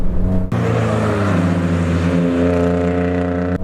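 A stock BMW E36 M3 roars steadily on a race track during a chase, its engine note holding a sustained, loud harmonic drone with a sharp shift or lift at the start and end.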